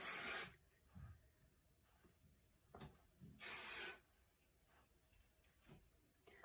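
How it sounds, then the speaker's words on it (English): Hair texturizing spray hisses from an aerosol can in two distinct bursts, a short one at the start and a longer one midway, fairly close and crisp with quieter handling noise between. "Just spray it in all over. It has such a nice spray, really even."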